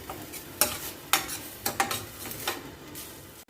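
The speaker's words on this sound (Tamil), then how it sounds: "கொஞ்சமாக நெய் ஊற்றி தேங்காவை வறுத்துக்கலாம்." Grated coconut fries in ghee while a spoon stirs it, soft sizzling broken by several sharp scraping strokes against the pan.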